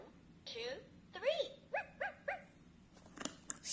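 A VTech Latches & Doors toy busy board plays its electronic puppy barking effect, a few short bright yaps and whimpers in quick succession, close and clear, following a cheerful recorded voice.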